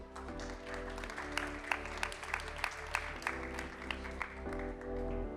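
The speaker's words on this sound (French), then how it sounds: "Je vous demande maintenant d'applaudir Christina Longhi." An audience applauds a speaker at a forum event, a steady wash of clapping from a seated crowd with music playing underneath throughout.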